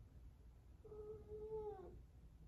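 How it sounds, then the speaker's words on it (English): A hungry house cat named Butter lets out one drawn-out, mournful meow, clear and fairly close against a quiet room. "you might hear him meowing over here"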